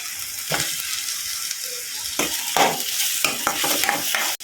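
Boiled potatoes are stirred into a vegetable dish in a hot pan, with a steady sizzle and repeated spoon scrapes and knocks against the metal, close and fairly loud with no voices.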